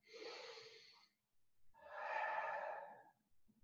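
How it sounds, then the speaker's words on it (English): Two slow, audible breaths, a long exhale, a pause and then a longer one, made during a tiger kung-fu exercise. They are close and fairly quiet, with no speech over them. "focusing on that breathing"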